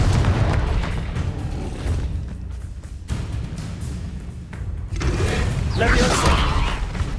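Confringo fire spell explosion in the Hogwarts Legacy video game, heavy booming blasts and rumbling mechanical crackle filling the clip, loud and dense, with a voice mixed in.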